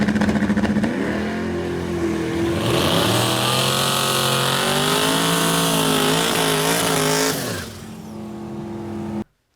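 Junkyard LS truck engine swapped into a '64 Nova revs hard and loud, climbing from idle into a sustained high-rpm roar for several seconds before dropping off abruptly near the end.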